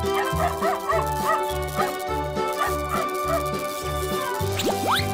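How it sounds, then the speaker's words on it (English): A cartoon dog barks in a steady series of short woofs over a continuous music bed, ending with a couple of higher yips. "Dog."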